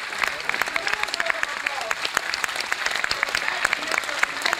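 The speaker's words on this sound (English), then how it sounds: "I would demand a tremendous round of applause for" A large audience in a private auditorium breaks into sustained applause, with dense, steady clapping close by that holds at an even level throughout.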